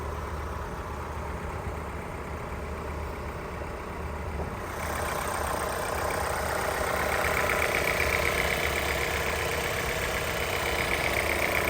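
A 2019 Jeep Renegade's engine idles steadily under the open hood, a close, constant hum that grows slightly louder and brighter partway through.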